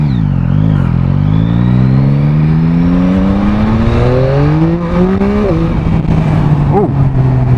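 A new motorcycle accelerating hard enough to lift its front wheel, loud and close, engine whine climbing steeply through several gear changes with brief dips between shifts.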